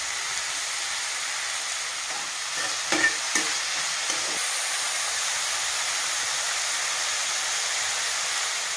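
Pieces of ridge gourd fry in a pan with a steady sizzling hiss, broken around the middle by a few brief clinks and scrapes of stirring before settling back to an even fry.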